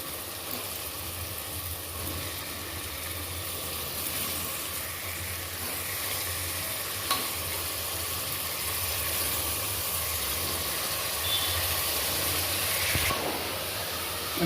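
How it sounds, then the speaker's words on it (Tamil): Goat head meat hits a pan of frying onion, tomato and ginger-garlic paste, giving a steady, close, loud sizzling hiss that runs unbroken throughout, with no voices. "இப்போ நம்ம இந்த தலைக்கறியை இதில் அப்படியே சேர்த்துடலாம்"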